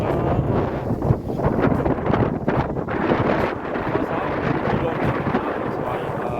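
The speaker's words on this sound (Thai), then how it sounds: "มื้อนี้ลมแห้งขนาด" Strong, steady wind sweeps across a lakeside by a village temple in rural Laos, roaring and buffeting the microphone continuously with loud gusty rumbles.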